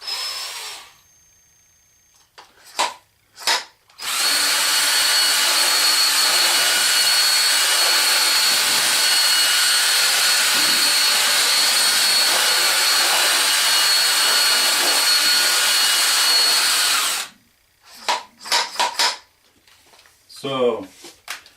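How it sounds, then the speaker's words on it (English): A Spin It Off magnetic black sand separator runs with a loud, steady motorized whir for about thirteen seconds, set between brief knocks and clatter before and after. "The spin it off. Magnetic black sand separator"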